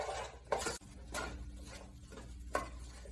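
Soft scraping and clinking of a spoon stirring food in a cooking pot, a few light taps spaced out over a quiet kitchen background.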